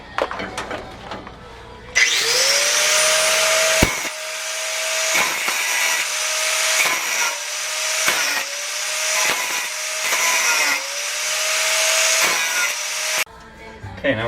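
A DeWalt 4.5-inch angle grinder with a metal cutting blade spins up and bites into metal on an ATM bolting job, a loud close whine that dips and recovers through repeated cuts for about eleven seconds, then stops.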